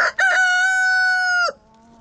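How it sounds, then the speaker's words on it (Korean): Rooster on a farm with hens crowing once, a short clucking lead-in followed by a long, loud, sustained crow close by, then quiet. "중요한 자리를 차지한 태양이는 이제 암탉들의 마음만 돌리면 최고의 권력을 가진 제대로 된 장닭이 될 수 있다"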